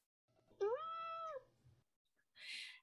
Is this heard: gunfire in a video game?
no